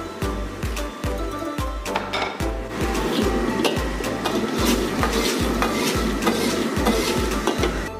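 Bamboo shoot slices stir-fried with braised chicken in a wok, a fast rhythmic series of metal ladle strikes and scrapes against the wok over a thick sizzle, loud and close.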